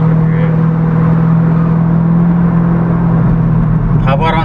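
The exhaust of a C8 Corvette fitted with a Blue Attack air filter makes a loud, steady low drone from inside the car. Toward the end a voice speaks over it.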